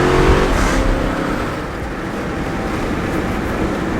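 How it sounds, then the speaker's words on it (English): A 2015 Dodge Durango R/T engine revs inside the cabin, with a brief burbling snort from the exhaust as a gear upshift kicks in, then a steady drone. "Every time you upshift, it's like a snort."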